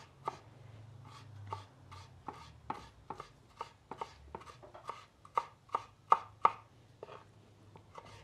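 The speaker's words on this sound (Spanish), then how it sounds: "así como voy a picar el jitomate también en pedacitos chiquitos, voy a picar el pepino y los chiles" A knife chops tomato, cucumber and chiles into small pieces on a cutting board, a steady run of close, crisp taps that grow sharper and louder toward the end.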